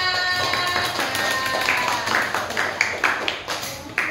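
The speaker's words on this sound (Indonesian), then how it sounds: "Beri tepuk tangan." Classroom applause from students for a group that just presented, a burst of scattered hand claps with a few sharper individual claps standing out near the end.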